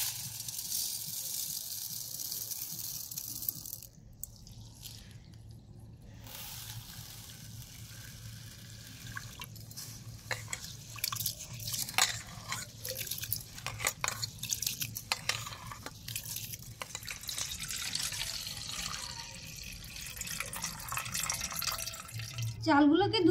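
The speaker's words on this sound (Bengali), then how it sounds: "এই আতপ চালগুলোকে আমি ধুয়ে পরিষ্কার করে নেব।" Sun-dried rice being washed by hand in water in a kitchen, with steady splashing, swishing and dripping close up, under some background noise.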